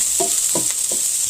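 Sausage links and onions sauté in a skillet with a steady bright sizzle, broken by three quick stirring scrapes close by, no voices.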